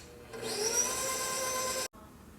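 Electric mixer whirring steadily as it blends white cake batter with sour cream, a continuous motor hum that starts up, runs loud and close for under two seconds, then cuts off abruptly.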